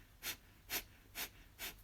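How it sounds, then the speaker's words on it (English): Four forceful nasal exhalations of bellows breathing, evenly spaced about half a second apart, each a short sharp breath pushed out through the nose by squeezing the belly in, close and alone. "every time I breathe out through the nose, and I squeeze my belly in"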